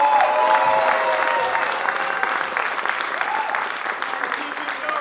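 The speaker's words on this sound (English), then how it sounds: "Give her a round of applause." Sustained applause from an improv comedy show audience, dense steady clapping with some cheering mixed in, fading slightly over five seconds while voices murmur beneath.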